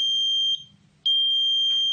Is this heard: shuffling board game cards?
no